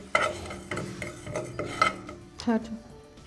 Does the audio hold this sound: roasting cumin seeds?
yes